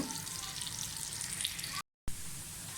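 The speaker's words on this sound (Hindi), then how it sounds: "प्याज को फ्राई होने दें।" Onions frying in oil for spicy mutton pulao, a steady close sizzle with a short silent gap partway through.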